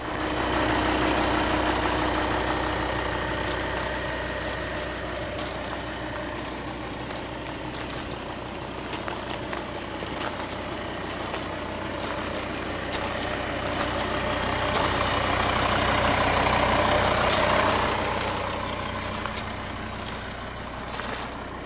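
A Volvo XC70 diesel car engine idles steadily at night with a continuous low rumble and a faint mechanical clatter. A few light clicks and taps sound nearby, and no one talks.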